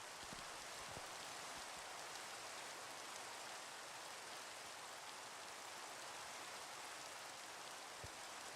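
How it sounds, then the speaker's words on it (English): Rain falls in Minecraft, a steady, soft hiss of drops spread evenly throughout, faint and unbroken with a few tiny taps near the end. "Oh, and here comes the rain."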